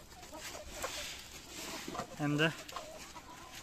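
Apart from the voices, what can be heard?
chickens clucking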